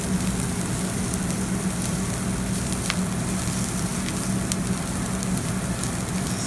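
Fideo pasta toasting in a pan while being stirred, a steady close crackling sizzle with faint scraping, unbroken and without speech.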